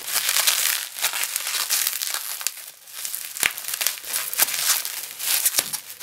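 A bubble-wrapped parcel holding a Mega Drive pickup is torn open by hand, making loud, close crinkling and ripping with sharp crackles and pops that carry on unevenly the whole time. Nobody speaks.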